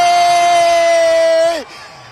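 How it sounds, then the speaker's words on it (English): Liverpool fans at the Premier League trophy parade let out a loud, close, sustained cheer that holds for about a second and a half, then drops away abruptly. "Give us a big cheer for Liverpool, guys!"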